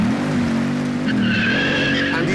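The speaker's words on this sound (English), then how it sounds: "just look how fast that thing fires off the line, smoking all four tyres" A 2011 Bugatti Veyron Super Sport launches hard in the video game Forza Horizon 5, engine droning steadily while all four tyres squeal and spin, loud and close, with a rising whine joining partway.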